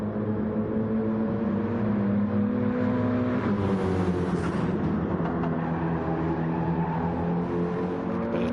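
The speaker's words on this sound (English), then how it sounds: "Nice little flutter of the turbo." Racing-game GT car at Le Mans, engine droning steadily and loud throughout with a brief turbo flutter midway as the revs shift, the motor note holding constant to the end.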